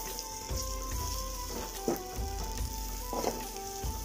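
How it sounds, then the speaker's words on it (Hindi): Garlic and ginger paste sizzling lightly in a pan, a steady crackling fry with occasional clinks and scrapes of a spoon stirring, close and alone without talk. "और लहसुन का पेस्ट ऐड करने के बाद अब हम लोग ऐड करेंगे अदरक का पेस्ट और अब हम लोग इसको हल्का सा भून लेंगे"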